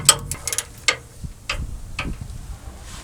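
A ratchet snugs the center bolt on a 2000-2006 Toyota Tundra steering rack, a few short bursts of metallic clicking close by with pauses between the turns.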